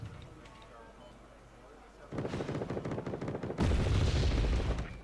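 Gunfire from units in the war strategy game Wargame Red Dragon, starting as faint background rumble, then breaking into rapid, dense automatic bursts that grow louder and heavier in the final seconds.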